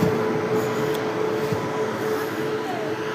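A train pulling into platform two of a station, heard as a loud, continuous close rumble and hiss with a faint steady whine and occasional metallic clanks.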